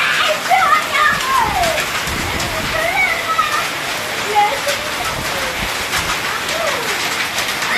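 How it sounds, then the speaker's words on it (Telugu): Heavy hail and rain pour down at night in Khammam, a dense, steady roaring patter that fills the whole clip, with voices talking over it. "అయ్యో చూడు రాళ్ళ వర్షం రాళ్ళ వర్షం"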